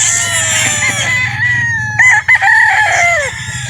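Loud gamefowl rooster crows overlap near the listener, one long call followed by another, with a few sharp knocks in the middle.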